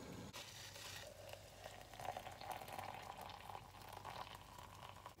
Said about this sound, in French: l'eau, elle a chauffé. On va renverser ça à l'intérieur.